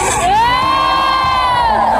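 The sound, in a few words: crowd jeering and shouting at a rally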